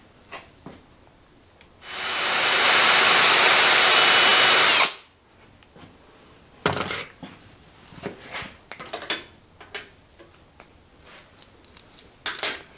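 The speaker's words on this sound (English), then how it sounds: "So we got to drill this hole." A power drill bores a hole through a steel mill table stop, a loud, steady whine lasting about three seconds, followed by scattered handling clanks and taps of the metal part.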